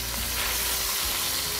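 Flank steak sears in an oiled pan, giving a loud, steady, close sizzle that hisses on without pause and with no voices.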